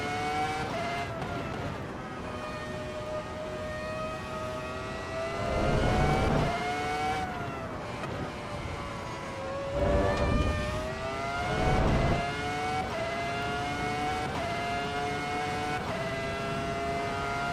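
Race cars in the sim racing game Assetto Corsa Evo, a steady engine drone with rising and falling pitch and a few louder surges, no talking.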